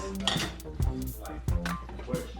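Dishes and cutlery clink several times while a home cook plates cabbage with sausage and brown rice, with sharp knocks and rattles over a steady low kitchen hum.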